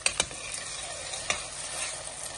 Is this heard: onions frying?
yes